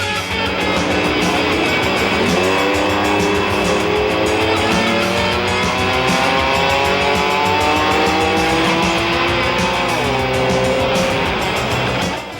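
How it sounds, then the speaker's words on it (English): Off-road racing trucks roaring around a stadium track, loud continuous engine noise with rising and falling revs as the trucks accelerate and pass. "This is the rough and tumble world of off-road truck racing."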